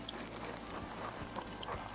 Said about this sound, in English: The goats are following him.